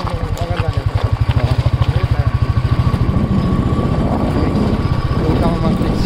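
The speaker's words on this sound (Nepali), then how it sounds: "बाइक रोकौँ एकचोटि" A motorcycle engine chugs loudly nearby with a rapid, regular thumping beat that smooths into a steady idle as the bike stops on a rural road near the Kailali–Bardiya border, with voices talking over it.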